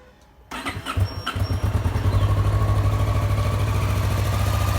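A motorcycle engine cranks and catches, then settles into a steady, loud idle close by, with no voices.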